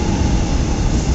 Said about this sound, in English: Hey, it's a choo-choo train.